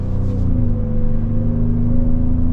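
A 2025 Ford Explorer ST-Line 4x4 cruising on the road gives a steady, loud low engine and road drone inside the cabin, holding an even hum with no voices.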